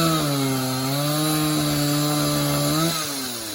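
Chainsaw notching a wooden pole while building a sawmill shed, a sustained close, loud whine that holds steady then drops off near the end.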